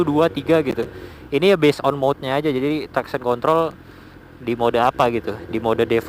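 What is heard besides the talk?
No distinct noise like a dog, phone or traffic.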